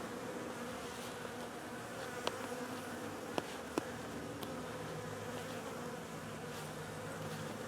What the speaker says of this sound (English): And you can see the cluster of bees there.